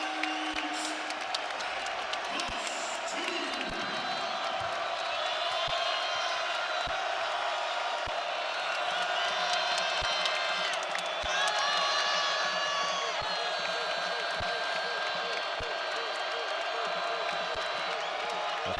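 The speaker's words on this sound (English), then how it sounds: "Crowd is getting into it here in Athens." A basketball crowd cheers in an arena in Athens during a Tennessee vs Georgia game, a continuous roar of voices with whoops and sharp thuds, steady and fairly loud throughout.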